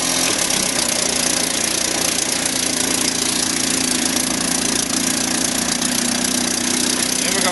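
A 1952 Mercury KH7 10 hp outboard engine runs in forward gear, a loud, steady, rattling drone with a buzzy, knocking texture that stays constant close by, with no pauses.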